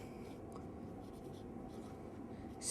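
Pen or marker scratching steadily across paper while axis labels are written on an economics diagram, a faint continuous scraping with a brief brighter stroke near the end, no talking.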